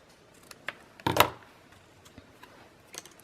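Scissors snip through a piece of scrap paper from a floral paper pad during a paper craft session, giving one short close crisp cut amid faint small handling ticks, with no talking.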